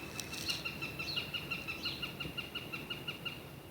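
A goshawk calls by a lake in Berlin with a series of faint, high, repeated shrill notes at a steady rhythm. They sound distant over soft background noise.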